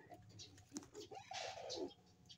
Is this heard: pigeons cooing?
yes